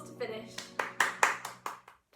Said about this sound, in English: Let's have a big round of applause to finish